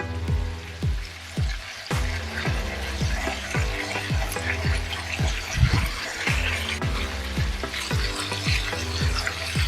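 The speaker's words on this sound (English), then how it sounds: "So we're cooking the next side for another 5 to 10 minutes." Chicken sizzles and pops steadily in a pan of olive oil mixed with the meat's own moisture, a dense continuous frying crackle with no voices.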